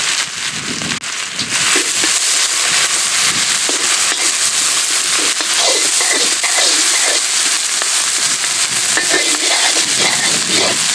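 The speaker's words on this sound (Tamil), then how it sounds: "இஞ்சி பூண்டு நல்லா வதங்கிருச்சு." Crushed ginger and garlic frying in a pan for egg Manchurian, loud continuous sizzling and crackling with occasional stirring scrapes, close up and with no talk.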